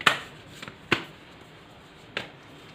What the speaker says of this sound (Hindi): चलिए, कुछ और कार्ड्स हम निकालते हैं।